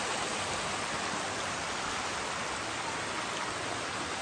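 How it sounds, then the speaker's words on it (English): Nagpana Falls in Barotac Viejo, Iloilo, pours as a steady, even wash of falling water, constant and moderately distant, with no voices. "it's a beautiful falls."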